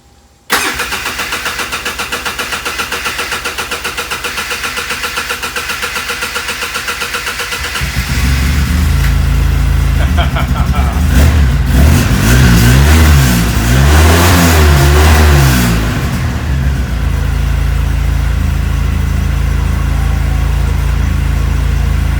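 A freshly tuned ATV quad engine cranks briefly, catches and idles with a loud, steady chug, then revs up harder with rising and falling pitch before settling back to a rough idle, close and loud throughout.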